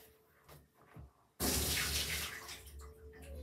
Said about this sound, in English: now I'm gonna go fill this inside the bathtub